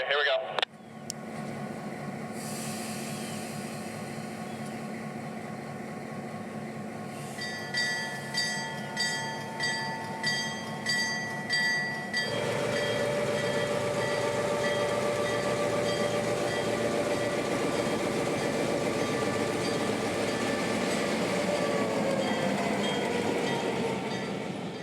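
Locomotive 8330 at the Florida Railroad Museum moves with three railroad cars, a steady loud rumble and rolling clatter with rhythmic clicks early on, then a sustained tonal whine, close and continuous, with voices over it.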